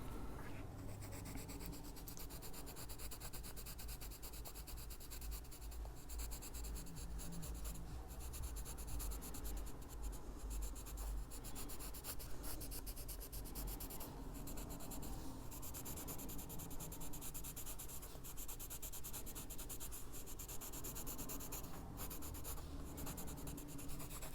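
Colored pencil rubbing and shading across paper in an adult coloring book Christmas Santa page, a continuous close, dry scratching with quick back-and-forth strokes and no talking.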